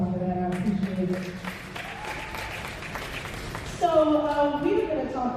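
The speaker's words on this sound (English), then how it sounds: "give yourself a round of applause for that" A storytelling gathering's audience gives a round of applause: steady, dense clapping for several seconds, with voices and tonal sounds carrying over it and swelling louder toward the end.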